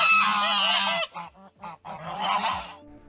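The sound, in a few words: geese hissing and honking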